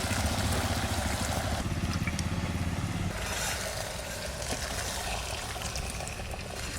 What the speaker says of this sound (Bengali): এবার একটু এই হাঁড়িতে একটু জল দেবো।